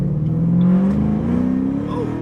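A 2007 Ford Mustang GT with a new tune accelerating down the street, its engine note rising in a steady loud throaty drone that stays close throughout.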